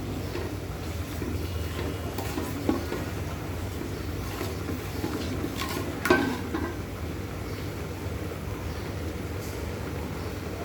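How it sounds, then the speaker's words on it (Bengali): Whole panch phoron spices frying in oil in a pan, giving a soft, steady sizzle with a couple of brief clinks from stirring, and no one speaking. "পাঁচফোড়নটা বেশি ভাজা যাবে না, তাহলে তিতা হয়ে যাবে"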